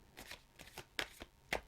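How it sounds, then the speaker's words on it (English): Tarot cards being shuffled by hand, several quick riffling bursts in short succession, close and fairly quiet. "So let's just quickly shuffle for the lovely"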